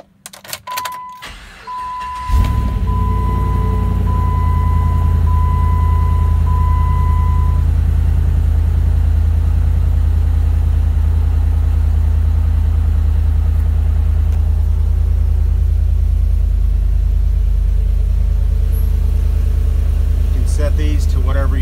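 A 2013 Jeep Rubicon with a swapped-in LS3 V8 cranks and catches after a couple of seconds, then settles into a loud, steady, deep idle that carries on alone, with a brief chime early on.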